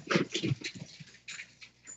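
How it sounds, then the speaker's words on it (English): Dogs running around a room give short whimpers and soft yips, a few quick close cries in two brief bursts, fairly faint. "Sorry for all the dogs running around."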